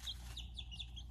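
Faint, high chirps from baby chickens, a handful of quick rising peeps in a short burst, distant and soft.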